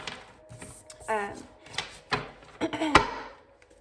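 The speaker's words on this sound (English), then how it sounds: "don't judge me with the shuffling with these, because they're very stiff, very, very stiff cards" Very stiff playing cards being shuffled by hand, giving a few sharp snapping clicks and short riffling bursts spread unevenly across a few seconds, with brief vocal sounds between them.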